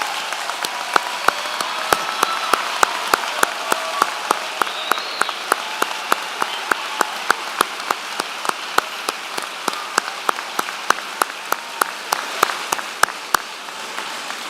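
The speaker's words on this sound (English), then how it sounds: "Will all of our first-generation grads please stand for a well-deserved round of applause?" Crowd applause for graduates at a university commencement ceremony, a sustained wash of clapping with individual sharp claps standing out steadily throughout, heard from within a large hall.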